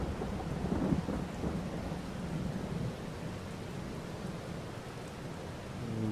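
Steady rain pours over rolling thunder in Farming Simulator 22 on a countryside pig farm, a dense continuous wash with a deep rumble early on and no talk.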